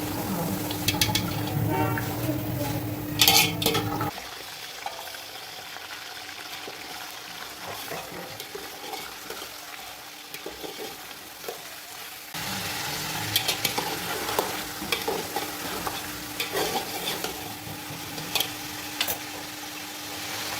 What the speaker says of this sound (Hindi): अब इसमें डालूंगी प्याज ब्राउन करने और इसको ब्राउन करके निकाल लेती हूँ